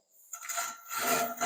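A Japanese Ryoba pull saw flush-cuts a wooden dowel, giving a close, raspy scraping that starts after a short silence and continues in steady rough strokes.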